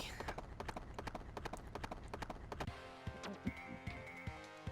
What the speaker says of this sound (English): we got a horse stage here